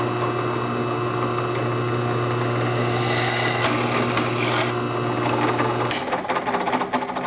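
A power drill with a metal-drilling bit whines steadily for several seconds, then bites into a thin metal strip with a rougher grinding rasp before winding down near the end.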